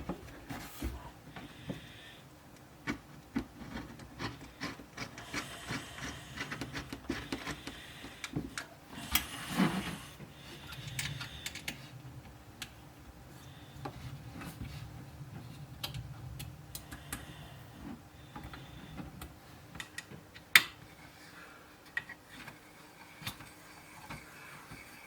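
A WOXCKER JL7 10W laser engraver works along its rails, stepper motors producing a faint, steady ticking and clicking pattern with soft mechanical whirs, quiet and close, occasional sharper clicks standing out.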